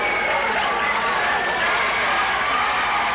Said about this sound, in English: You can hear the crowd really getting into the ball game.